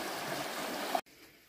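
River water in St. Ann, Jamaica rushing steadily at high level, a broad, even wash of flow close by, cutting off abruptly near the end to a much quieter background.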